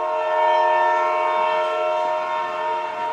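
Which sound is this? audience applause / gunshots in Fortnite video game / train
train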